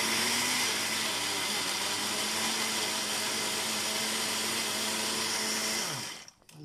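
A kitchen blender grinds sesame seeds into tahini with oil, a loud steady whir running continuously before winding down and stopping at the end.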